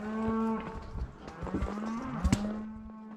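Cattle lowing on a Montana cattle drive through a canyon bottom, several drawn-out moos overlapping close by, with rustling and hoof noise underneath and no talk.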